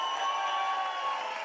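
Audience applause and light cheering after comedy acts on a stand-up comedy stage, a dense, steady wash of clapping that stays fairly faint and distant throughout the short moment.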